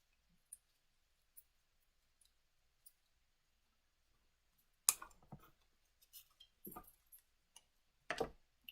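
Scissors trimming a paper jar cutout for door tags, a few faint isolated snips followed by a quick cluster of close, crisp cuts and paper rustles in an otherwise quiet room.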